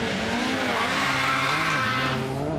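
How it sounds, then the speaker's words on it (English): A Peugeot 205 T16 rally car engine screams at high revs as it pulls away hard from the start line of a forest rally stage at the Festival of Speed, pitch climbing and dropping with gear changes, loud and close. "the delightful sound of the 205 T16 leaving the start line"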